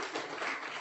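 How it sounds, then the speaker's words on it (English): Brief burst of applause from an audience welcoming a new staff member, a dense wash of clapping hands with no talk over it. "let's give Erica a nice round of applause"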